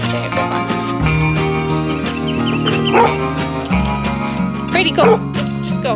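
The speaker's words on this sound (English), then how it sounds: "What are you barking at?" A dog barks over tonal music and talking indoors at a container home, its yips and bow-wows sitting under the steady musical backdrop.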